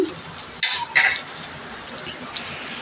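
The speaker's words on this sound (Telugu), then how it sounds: "ఉల్లిపాయ ముక్కలు ఇలా ఎర్ర వేగినాయి కదా" Onion pieces and a green chili fry in a pan for a village-style chicken fry, a soft sizzle under two short spoon scrapes and clinks against the pan, with no talking.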